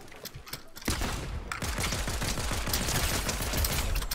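Pistol gunfire in the video game Fortnite: a rapid, continuous burst of shots that starts after a brief quieter moment and keeps going, loud and dense.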